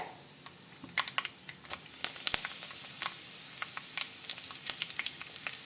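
Curry leaves and mustard seeds sizzling in hot oil, a constant crackling hiss dotted with many quick pops and spits throughout, fairly close.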